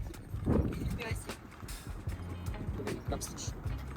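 Horses' hooves clop irregularly near a Serbian fortress, several close thuds mixed with outdoor noise while people talk over them.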